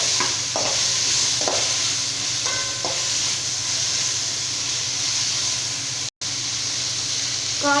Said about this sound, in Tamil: இதில் அவரைக்காய் ஆட் பண்ணிக்கிறேங்க. காய் சேர்த்து நல்லா வதக்கிக்கலாம்.